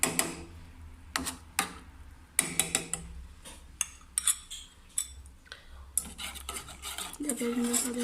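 A spoon stirs a homemade cough remedy of honey and nigella seeds, clinking and tapping irregularly against the bowl with soft scraping between strokes, close and alone without talk.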